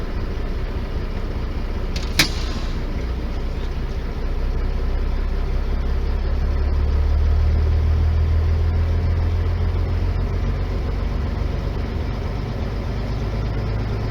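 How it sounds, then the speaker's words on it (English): A diesel truck engine idles steadily during a roadside break after a long hill climb, a continuous low rumble filling the whole stretch with a brief sharp click early on and a slight swell in the low drone midway. "Just give the engine a chance to cool down a bit."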